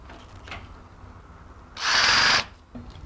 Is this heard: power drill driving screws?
yes